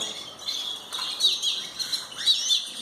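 Belgian canaries in a breeding room chirp and twitter in short, bright bursts, several birds calling over one another at moderate distance with small gaps between phrases.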